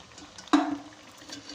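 Oil poured into pumpkin halwa cooking with jaggery and cardamom in a pan, a single sudden liquid splash and sizzle that tapers off over about a quarter second, followed by a low quiet hiss.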